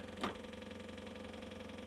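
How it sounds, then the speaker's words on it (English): A John Deere 1025R compact tractor engine idles steadily while warming up, a low continuous rumble with a brief louder burst near the start, then an even, unchanging drone. "Let's get the tractor warmed up."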